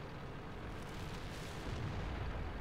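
A T-44 tank in World of Tanks fires amid dense, continuous battle rumble, with a heavy boom blending into the constant low roar of combat.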